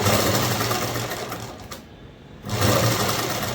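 A sewing machine stitches fabric for a simple children's garment with a fast, even whirring run. It pauses briefly in the middle, then starts up again at full speed.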